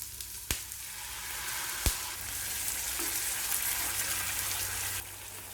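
Chopped garlic and capsicum sizzle steadily in a hot pan with sweet and sour sauce, a continuous frying hiss with two sharp clicks of a utensil, the sizzle cutting off near the end.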